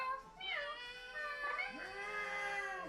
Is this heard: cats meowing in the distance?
yes